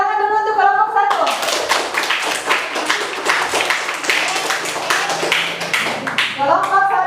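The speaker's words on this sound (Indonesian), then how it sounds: "Tepuk tangan dulu untuk kelompok 1." A group of students in a classroom gets a burst of close, lively hand clapping lasting several seconds, with a voice speaking just before and after.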